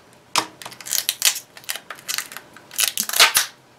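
Tape is peeled and pulled off a new container of acrylic paint glaze, giving a close series of crisp ripping and crackling bursts in quick irregular spurts, with no voices.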